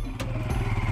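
A Royal Enfield Himalayan motorcycle engine rumbles low and steady on wet sand, nearby and moderately loud, with a couple of brief clatters over the drone.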